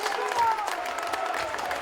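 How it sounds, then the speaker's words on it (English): Workington Town rugby league fans applaud around the commentary position after a try against Featherstone Rovers, a steady wash of clapping and crowd noise with a faint tonal whistle threaded through it. "Massive applause from the Town fans around us, lifting the team."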